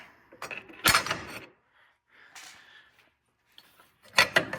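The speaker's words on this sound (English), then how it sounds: "then you use a little crowbar like this, pry bar, and you just pry it out" A pry bar levering an engine mount bracket out of an Audi A4, a few close scraping, grinding metal clunks separated by quiet gaps.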